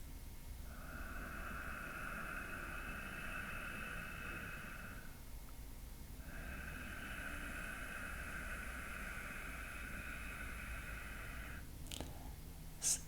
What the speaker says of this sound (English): It's as though you could whisper the sound sa, but with your lips closed.